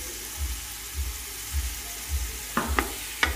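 Chopped tomatoes frying in a pan, a soft sizzle under low rhythmic stirring thumps, with a few sharp scrapes of the spoon near the end, quiet and close.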